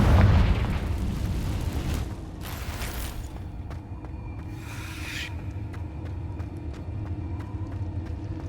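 A Confringo fire-spell explosion in Hogwarts Legacy, a heavy low boom at the start that rumbles and fades, followed by scattered crackles, whooshes and small mechanical clicks.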